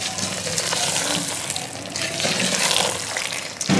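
Water pouring steadily into a pot of Hyderabadi-style mutton and drumstick curry, a continuous close splashing rush that fills the whole moment with no voices.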